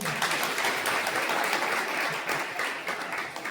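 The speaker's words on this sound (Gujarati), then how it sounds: "એકવાર જોરદાર તાળીઓ થઈ જાય" An audience at a youth camp held by the Gujarat Theosophical Federation at Purnanand Lodge in Petlad claps in a loud, dense round of applause that holds steady throughout.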